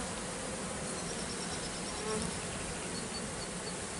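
A swarm of honeybees buzzes around a hive as a crown board is eased into place, a dense, continuous close-up drone of many insects with no pauses.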